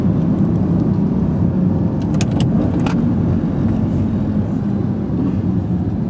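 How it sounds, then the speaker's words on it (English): A turbocharged Lamborghini engine drones loudly and steadily while downshifting, with brief throttle blips popping out near the middle of the pass. "I think it's working pretty good when you downshifts. Yeah, so it has the throttle blips."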